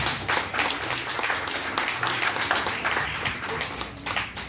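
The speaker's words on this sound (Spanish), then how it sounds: "Pido un aplauso para ella, por favor." Audience applause for a singer at a parish queen election event in Tierra Blanca, a dense burst of clapping that swells and stays steady for a few seconds before tapering.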